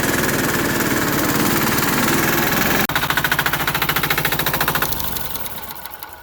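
A Sears Suburban 6HP diesel engine on a lawn mower with a 48-inch deck roars loudly and steadily. It then drops into a rapid, hard chugging that slows and fades as the engine winds down.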